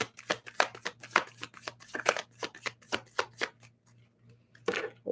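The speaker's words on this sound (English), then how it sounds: "I feel like I have to actually shuffle." Tarot cards are shuffled close up in a quick run of crisp riffling bursts and soft slaps, pausing briefly before one final shuffle, with no talk.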